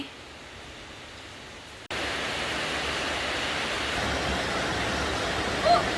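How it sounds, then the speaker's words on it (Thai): Heavy rain pours steadily during a rainy day outdoors, a dense, even hiss that starts softer and jumps louder after a brief break, continuing without pause. "ฝนตกทุกคนบรรยากาศได้ยินเสียงฝนไหม"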